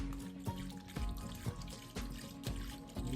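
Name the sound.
soy sauce poured over deer meat for marinade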